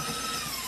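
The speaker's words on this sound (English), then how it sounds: "Put that in the mixer. You would need to turn it on to about a medium speed." An electric stand mixer at medium speed beating butter for cookie dough, a steady whirring motor drone, brief and even, heard alone at close range.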